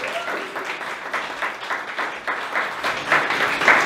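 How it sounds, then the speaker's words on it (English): An audience claps at an accessibility awards event, a moderate crowd applause with uneven patter that swells slightly louder toward the end. "Let's have another big round of applause for Julie and Brenda."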